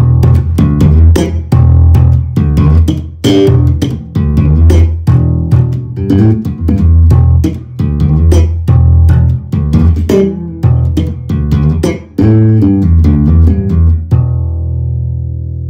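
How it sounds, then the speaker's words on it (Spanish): An electric bass plays a solo slowly with no backing track, a steady run of plucked, punchy low notes in a loose rhythm, loud and close, ending on a ringing note that decays. "Voy a hacer el solo sin la música y un poco más lento de lo normal. Para que vayas viendo más o menos cómo suena"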